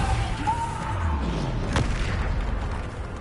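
Depulso force spell blast in the Hogwarts Legacy video game, a single booming impact midway through over a steady rumble of combat noise.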